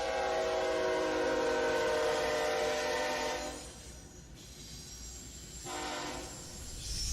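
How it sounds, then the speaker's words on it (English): A CSX coal train leaving a railroad yard in Russell, Kentucky, sounding a long, loud horn blast that cuts off and returns in shorter bursts over a rumbling engine and rolling cars. "A CSX train is leaving the railroad yard in Russell, Kentucky."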